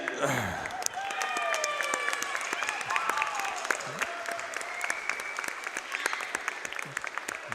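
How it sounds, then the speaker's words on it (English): A crowd at a school sports game gives the seniors a standing ovation, with sustained loud applause and cheering filling the space. A voice speaks over it. "Let's give them a nice standing ovation"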